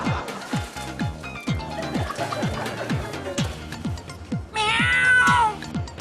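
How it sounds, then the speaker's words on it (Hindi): A cat meows repeatedly in short, regular calls throughout, fairly close and clear, with a louder, higher burst of sound near the end. "ओह मानो बिल्ली, हाउ क्यूट"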